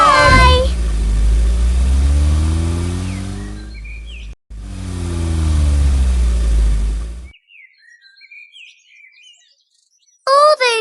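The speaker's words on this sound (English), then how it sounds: "Everybody climbed inside the little car, ready to drive to the park." Peppa Pig's family pulls away in their little cartoon car, bound for the park, with a steady droning engine for several seconds that briefly cuts out, then fades into chirping birds.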